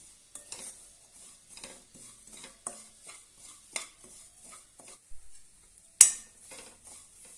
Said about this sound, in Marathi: आता आपल्याला छानपैकी भाजून घ्यायचं आहे खरपूस असा आपल्याला भाजून घ्यायचा आहे